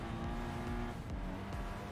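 Race car engine and tyres in the driving game Ace Racer, driven as a Toyota 86–style car, give a steady, loud engine drone with shifting revs and faint tyre noise while cornering.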